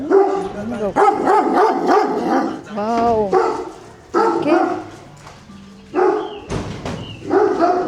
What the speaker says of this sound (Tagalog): Ito yung nakakalabas minsan na aso.